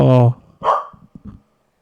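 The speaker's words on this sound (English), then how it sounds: "Don't bark at me!" A single sharp dog bark rings out at the start, close and loud, followed by quieter clicks and faint movement sounds as the noise trails off.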